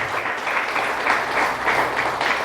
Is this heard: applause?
yes